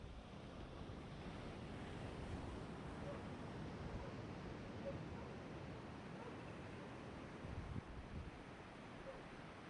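Ocean waves washing onto the beach at Atacames, a steady broadband rush of surf mixed with wind buffeting the microphone, continuous and fairly even with a slight swell near the end.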